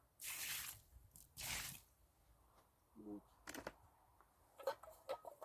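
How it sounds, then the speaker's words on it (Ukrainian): Water poured onto the soil around a grape seedling planted in autumn: two short splashing pours, then scattered drips and soft squelches of wet earth, close and fairly quiet. "Трошки пролью, зволожу водичкою."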